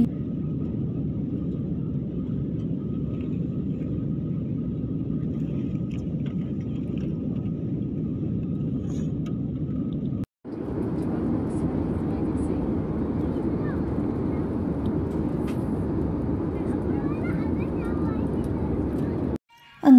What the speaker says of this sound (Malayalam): അങ്ങനെ നമ്മൾ ഷാർജ എയർപോർട്ടിൽ നമ്മൾ ഫ്ലൈറ്റ് ലാൻഡ് ചെയ്യാൻ പോവുകയാണ് കേട്ടോ.